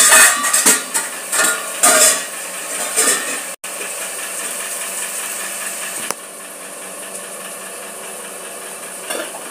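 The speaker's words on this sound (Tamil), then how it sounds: "அந்த சிங்க்ல வந்து பாத்திரம்லாம் இருக்காமா, அந்த கழுவிட்டு போ" Dishes, pots and cutlery clatter and clink in a kitchen sink during washing, loud scraping bursts in the first few seconds, then a steadier running wash noise continuing to the end.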